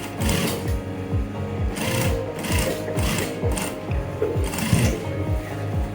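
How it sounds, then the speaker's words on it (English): An interlock sewing machine stitches trouser pocket fabric in a steady, fast mechanical chatter with rhythmic thumps and short pauses, close and alone. "Interlocking machine, that is a weaving machine, right? So you just sew it that way."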